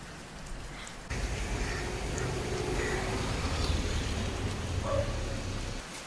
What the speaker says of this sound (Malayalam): ഓ മഴ വന്നല്ലോ.